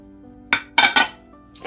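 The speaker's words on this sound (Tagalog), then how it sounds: "Ako na rin maghuhugas ng pinggan." Dishes and cutlery clink against each other in a few quick, close knocks, like plates being handled at a sink.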